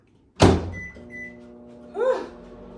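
A kitchen oven door thumps shut with a sharp close knock, followed by a low steady hum and a brief whooshing, rising squeak a second and a half later; no voices.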